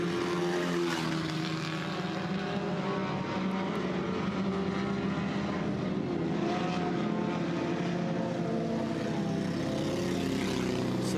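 At a Friday night dirt track race in Southern Ontario, a race car engine running rough drones loudly and continuously, a steady, buzzing mechanical roar with no break.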